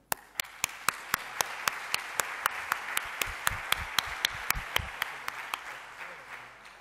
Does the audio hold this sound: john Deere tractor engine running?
no